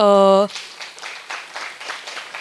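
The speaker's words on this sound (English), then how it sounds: "A big round of applause for Denver and Manoj." Audience applause at the Interfaces 2025 event for two presenters, starting just after a sustained tone ends and continuing as a thin, steady patter of clapping from a modest crowd.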